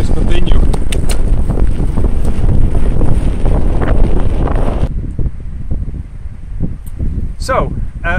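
Loud, steady wind buffeting a microphone while cycling in a Sportful Fiandre Light wind jacket, roaring broadband noise that eases slightly partway through, with faint voice-like bits near the end.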